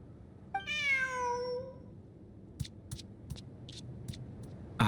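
A cat in the video game Genshin Impact gives one clear, drawn-out rising meow, followed by a few soft scattered clicks and rustles in a quiet setting.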